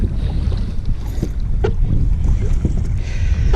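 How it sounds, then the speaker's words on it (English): Steady 10 to 12 mph wind blowing over a lake while kayaking, a constant low rumbling buffet across the microphone with faint water sloshing against the hull throughout. "Right now we probably got a 10 or 12 mile an hour wind blowing right in our face"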